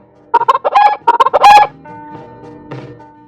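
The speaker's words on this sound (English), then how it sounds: "Chicken" Chicken clucking at a farm, a rapid run of loud close squawking clucks followed by a few softer, drawn-out calls, heard alone.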